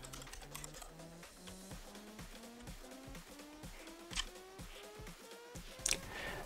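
Fingers typing a hostname and password on a computer keyboard, a quick irregular run of soft clicking keystrokes, close and fairly quiet, with a low steady tone rising in steps underneath.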